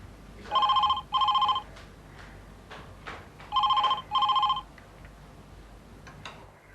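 An old-style telephone bell rings indoors in two pairs of short, bright electric trills, clear and close against a quiet room.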